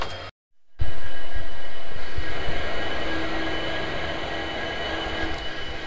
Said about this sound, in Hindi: फाइनली चल पड़ी है ट्रेन।